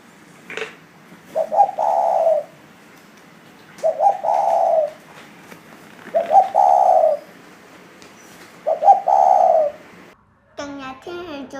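Pigeons coo in a park aviary, four evenly spaced, close, clear throaty coos rising and falling in a slow rhythm, with a short chirpy call at the end.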